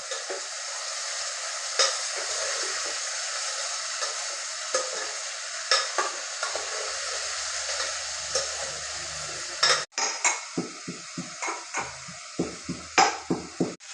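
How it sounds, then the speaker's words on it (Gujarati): Spiny gourd (kankoda) being stirred in a hot pan with a steady sizzle, then a run of quick scraping and tapping strokes from the spoon against the pan toward the end, close and clear with no voices. "હવે બરોબર આપણે મિક્સ કરી લઈએ કંકોડાને"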